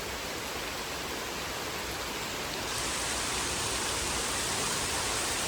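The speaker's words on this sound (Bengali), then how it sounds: "এই যে প্রচন্ড বৃষ্টি শুরু হয়ে গেছে।" Heavy rain falls over a village as a dense, unbroken hiss of downpour that grows slightly louder midway, with no voices.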